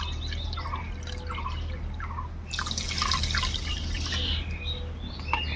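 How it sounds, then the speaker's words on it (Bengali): Water poured from a bowl into a pan of sugar in a home kitchen, making a steady trickle with small drips that swell slightly louder partway through, with no speech. "দিয়ে দেবো এক বাটি জল"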